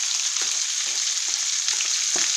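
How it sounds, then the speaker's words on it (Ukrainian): Steady, hissing sizzle of fish frying in a hot pan, continuous and close, with occasional soft pops and faint stirring bumps. "А тим часом я буду обжарювати рибку"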